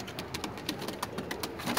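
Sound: pigeons cooing

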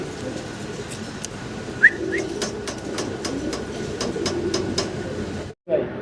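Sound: pigeons

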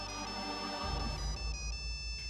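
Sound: mobile phone ringing

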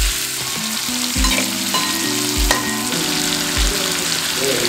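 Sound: chicken frying for biryani

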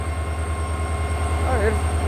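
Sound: diesel locomotive train accelerating

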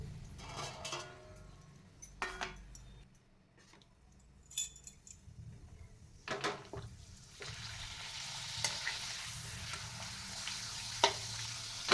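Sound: urad dal papad frying in oil on medium gas

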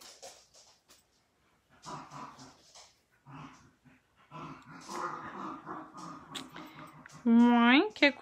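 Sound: dogs barking and growling

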